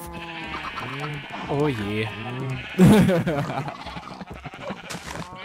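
Sheep bleats from the Minecraft video game, several short wavering calls in a row, with people talking over and between them in German.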